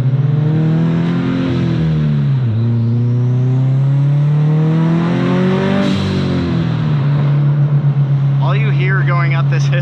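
Turbocharged car running on E85 ethanol fuel accelerating up a hill, engine tone rising loudly through the gears with a dip at a shift, heard from inside the cabin, then a short burst of voices near the end.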